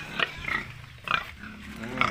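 Pigs grunt and squeal in short, irregular bursts, close by. The calls are moderately loud over low background noise.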